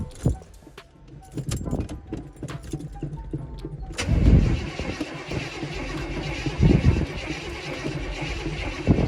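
A 1986 truck's 350 engine, converted from TBI to carburetor, cranks and catches, then idles roughly with uneven revving, after a few clicks and rattles beforehand.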